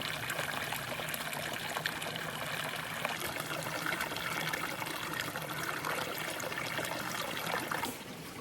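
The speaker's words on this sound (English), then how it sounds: "I'm about to filter about 2 liters of water" Creek water trickling and dribbling into a 2-liter filter bag beside a hiking trail, a steady, close, soft stream of running water that fades slightly at the end.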